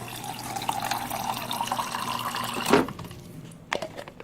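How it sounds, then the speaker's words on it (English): Tap water runs and splashes as a bottle is filled, a steady moderate pour that cuts off near the end, followed by a couple of brief knocks. "So then you're just going to fill it up with water like"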